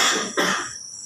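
A man gives a loud, close cough in two quick bursts during a religious study gathering, the sound then fading out.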